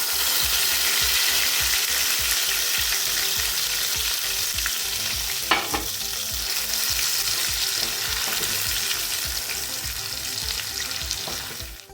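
Ground spice paste fries in a pan of hot oil with fenugreek seeds for a lemon coriander prawn dish, making a loud continuous sizzle over a fast, regular scraping rhythm from constant stirring.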